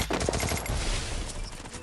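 Rapid bursts of gunfire in Free Fire crackle in quick succession, sharp and dense like automatic weapon fire.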